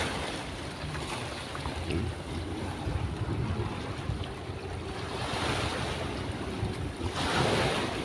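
Ocean waves surge and wash continuously, with gusty wind buffeting the microphone and a swell building louder toward the end.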